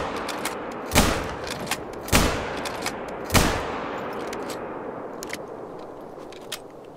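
A .243 rifle with polymer-tipped rounds fired in a hunting video game, three loud single shots spaced about a second apart, each trailing into a long rolling outdoor echo, with a few fainter distant reports afterward.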